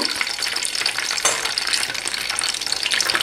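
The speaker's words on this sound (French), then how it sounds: "Là, je vais passer à la cuisson des nems. Alors, sur un feu moyen et dans une poêle." Nems, Vietnamese spring rolls, sizzle steadily in oil in a frying pan over medium heat, with a continuous bright crackle and a brief louder burst partway through, with no voices.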